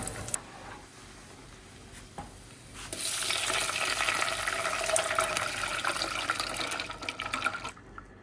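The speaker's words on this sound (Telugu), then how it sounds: "ఇందులో నేను కొంచెం లో ఫ్లేమ్లో పెట్టి మిల్క్ వేస్తాను" Milk poured over fried moong dal and cashews in a pan on a low flame, a soft background sizzle giving way to a louder, steady liquid rush and bubbling for several seconds before it stops.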